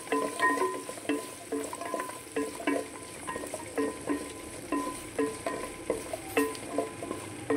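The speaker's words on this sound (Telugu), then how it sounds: "కొంచెం ఆయిల్లో ఫ్రై అవ్వాలన్నమాట మిల్ మేకర్." Meal maker soya chunks fry in a little oil, a soft steady sizzle with regular rhythmic scraping and tapping as a spoon stirs them around the pan, close up and fairly quiet, no talking.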